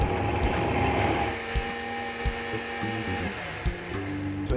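Blender pureeing roasted squash soup, a steady whirring motor drone with shifting pitch as the blades churn the thick mixture, faint knocks underneath.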